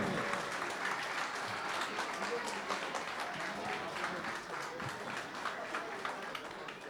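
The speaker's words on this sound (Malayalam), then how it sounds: "നല്ലൊരു കൈയടി ഒരുമിച്ച് എല്ലാവരും ചേർന്ന്" Sustained audience applause at a guest memento distribution event, a dense steady clapping wash from many hands filling the whole stretch at even loudness.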